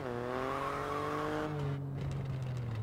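A rally car in the WRC 10 video game accelerates, its engine whining upward through the revs while tyres hiss, heard continuously and somewhat muffled and subdued throughout.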